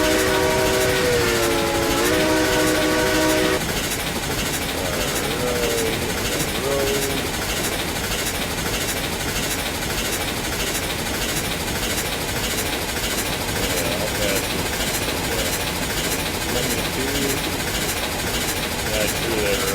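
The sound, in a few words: steam locomotive running in the video game RailRoads Online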